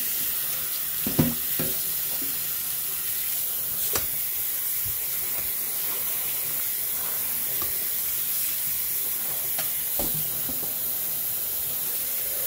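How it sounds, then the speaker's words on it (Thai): Cooked noodles are rinsed under cold running tap water, a steady close splashing stream with a few louder splats and clatters from handling. "แล้วล้างน้ำเย็น ล้างน้ำเย็นให้พี่น้อง"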